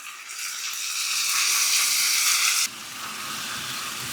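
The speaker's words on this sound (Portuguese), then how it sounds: "E agora ir misturando para que o molho pegue em toda a carne, na cebola e no alho." Sauce poured into beef browning with onion and garlic over medium heat for a Japanese-style onion beef dish, giving a loud, steady sizzle and frying hiss that drops suddenly to a softer bubbling as the liquid is stirred in.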